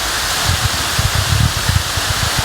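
DeSoto Falls in Alabama pours as a steady, loud broadband rush of falling water close by, with soft low thumps scattered through it and no voices.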